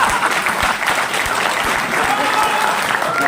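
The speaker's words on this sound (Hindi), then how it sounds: "एक बार जोरदार तालियां," Loud, dense audience applause fills a hall, steady and sustained with many overlapping hands clapping together throughout.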